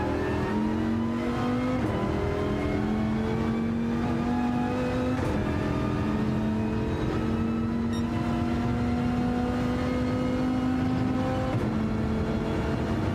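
Dodge Viper engine in Gran Turismo 7 revving steadily, its rising harmonic drone climbing through repeated gear pulls and brief dips, loud and continuous with no talk over it.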